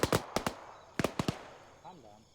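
Gunfire in a multiplayer shooter video game: several sharp, loud shots in two quick bursts of three, followed by a brief vocal sound as the shots fade.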